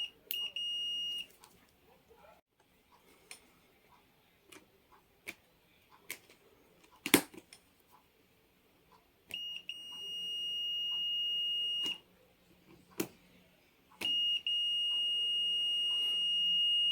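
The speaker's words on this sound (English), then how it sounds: "The Fluke 107 makes two kinds of beeps in its continuity test." Electronic continuity-test beeps of two kinds from a Fluke 107 digital multimeter, short chirps and longer sustained tones, separated by quiet gaps and faint clicks.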